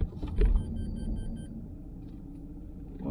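A Dacia car engine idles quietly and smoothly after an injector fix, a low steady hum with a brief louder bump at the start and a few faint clicks.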